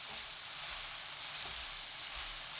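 Carrots stir-frying in a pan after fine salt goes in, a soft continuous hiss and sizzle at low level with faint dull stirring thumps, no voices.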